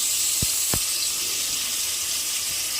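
Ginger paste hitting hot oil and softened tomato in a pan makes a steady, even sizzle that runs throughout, with a couple of soft low knocks near the start and a brief louder rustle at the end.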